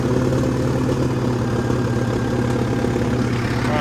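Old 1966 CAT 955 crawler loader engine revving under throttle, a loud steady low diesel rumble running close and continuous with no talk.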